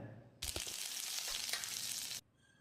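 Mustard seeds and curry leaves sizzle loudly in hot oil in a wok, a sudden burst of frying crackle lasting about two seconds before cutting off, with no talking.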